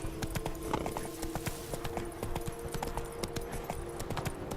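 Roach the horse galloping in The Witcher 3, hooves clip-clopping in a fast, steady, close rhythm over a low continuous rumble, with no other sounds.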